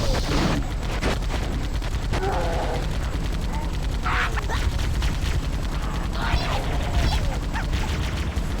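Sniper gunfire crackles through the Cursed Halo video game in a dense run of sharp shots over steady game noise and mechanical clatter, persisting throughout at moderate loudness.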